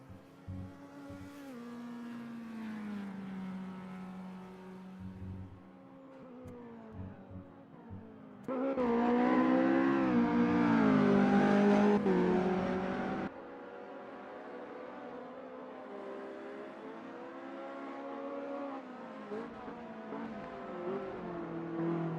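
Race car engines howl in the Automobilista 2 sim racing game. Several cars rev and shift through the gears with rising and falling tones, and a loud, full-throttle surge sits in the middle of the run.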